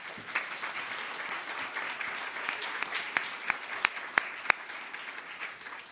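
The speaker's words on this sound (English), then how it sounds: "your hands are going to be sore from all the clapping" An audience claps at a school inauguration event, a steady wash of applause with a few sharp, louder individual claps standing out near the middle, heard from some distance with no talking.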